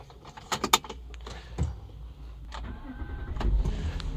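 A black 2003 BMW 730Li starting up: key jingles and clicks, then the engine cranks and settles into a low, steady idle, heard from inside the car and fairly quiet.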